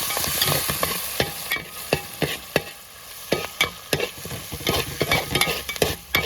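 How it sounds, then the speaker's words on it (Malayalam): Fresh country curry leaves crackle and sizzle in hot oil for a silver fish curry, with a spoon scraping and stirring the pan in repeated sharp strokes over a steady frying hiss. "ഈ കരിവേപ്പില കൂടെ അങ്ങ് ഇട്ട് കൊടുത്തേക്കാം."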